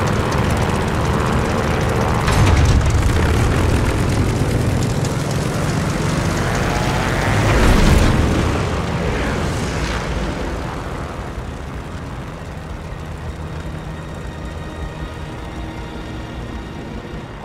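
A propeller fighter plane takes off in Call of Duty Vanguard. Its engine drones loud and close, surges in a couple of heavy swells, then eases into a steadier, quieter hum as it climbs away.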